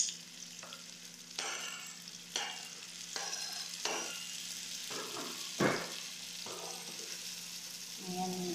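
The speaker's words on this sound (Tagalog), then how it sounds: "Kumulo-kulo ang ating niluluto. Yan, nilagay na ang kamatis." Tomatoes cook in a pan with a soft background sizzle, broken by several scraping stirring strokes at irregular intervals, fairly quiet and close by.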